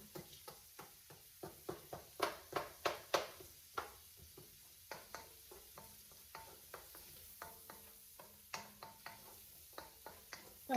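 Shrimp stir fry tossed in coconut oil in a pan, with a steady series of sharp utensil scrapes and clacks against the metal over a soft sizzle, close and fairly quiet, no talking.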